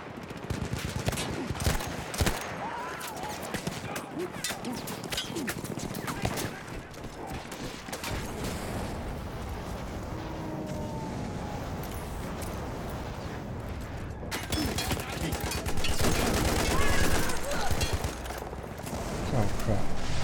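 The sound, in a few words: gunfire in the video game Battlefield 1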